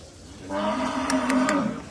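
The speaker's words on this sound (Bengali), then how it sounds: "এটা হলো সেই ভাইটাল গরু যেটা হলো তিনটা শিখ" A cow moos once in a long, drawn-out call at a cattle market in Ratankandi, Sirajganj, rising clearly over the quiet background din of the bazaar and close to the listener.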